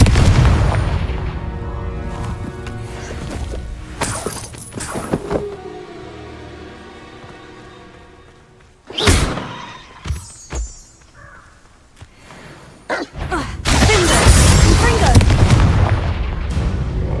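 Explosions from the Confringo blasting spell in Hogwarts Legacy, several booming blasts with sharp onsets spread across the stretch, with rumbling tails and quieter gaps between them, ending in a long loud roaring burst.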